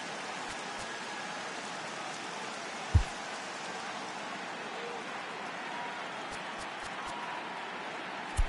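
Steady rain hiss fills a baseball video game broadcast during a rain delay, a continuous broadband wash with a couple of sharp clicks, at moderate level.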